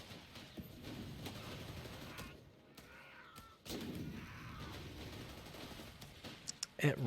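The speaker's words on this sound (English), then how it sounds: "Now listen to the Garand here." M1 Garand rifle fire in the Company of Heroes game comes as a mix of distant, rattling battlefield shots of moderate loudness, with crisper bursts toward the end and someone talking over them.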